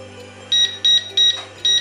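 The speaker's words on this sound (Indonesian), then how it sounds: "Ada alarm di sana untuk mengingatkan kita" An oven timer alarm beeps four times at an even pace, each a short, loud, high electronic tone over a low steady hum.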